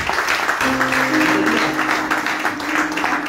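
Church congregation applauding and cheering together during a worship service, a steady broad wash of clapping lasting throughout, with a sustained voice or tone running beneath the crowd.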